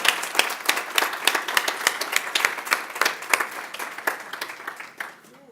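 An audience applauds at a domestic violence awareness service, steady dense clapping from many hands that carries on for several seconds before thinning and fading out at the end.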